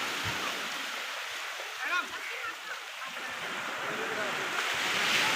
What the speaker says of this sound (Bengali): দেখেন সমুদ্রে কি আওয়াজ আসতেছে, দেওয়ার যেটা গর্জন দেখুন